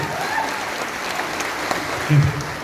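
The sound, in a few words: applause for a speaker at a political rally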